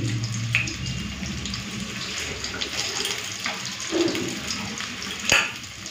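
Tap water runs steadily into a sink while fresh ginger is rinsed by hand in a home kitchen, a continuous close splashing hiss with a few brief knocks and clatters.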